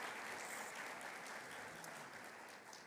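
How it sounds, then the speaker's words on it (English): A conference audience applauds its sponsors, a dense, even clapping that stays steady for a few seconds and then eases slightly, heard at a distance without talk. "A round of applause for our sponsors."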